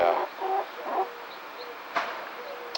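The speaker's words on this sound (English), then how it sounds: "We get these chickens. That's what they're so excited about." Several chickens cluck in short, busy bursts close by, with scattered calls trailing off into quieter background noise.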